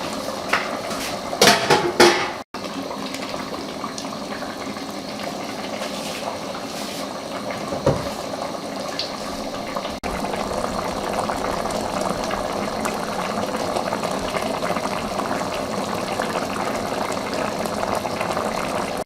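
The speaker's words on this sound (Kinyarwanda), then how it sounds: "ngiye gupfundikira ubundi mbereke bitogote" Chicken sauce simmers in a covered pot, a steady soft bubbling hiss throughout, opening with a few sharp clinks of a metal lid and utensils against the pot.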